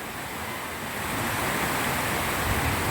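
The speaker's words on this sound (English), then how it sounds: "So much water in the street." Rainwater flooding a street in Suriname, heard as a steady, loud broadband rush of running water that swells slightly after the first second, with no voices present.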